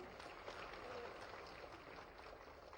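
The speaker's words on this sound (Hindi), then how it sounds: "जोरदार तालियां" An assembled crowd at a ceremony honouring top-scoring students gives a sustained round of applause, heard faint and distant as a continuous wash of clapping.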